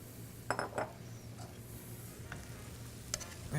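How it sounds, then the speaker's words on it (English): Spinach tossed into a hot pan with turkey cooking, giving a soft steady sizzle with a few clinks of utensil against pan, quiet and close. "Now we're gonna add our spinach last."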